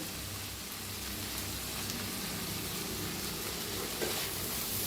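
Bun bhaji roasting in a pan on the gas, giving a steady, even sizzle that holds at the same level throughout, close by and with no voices.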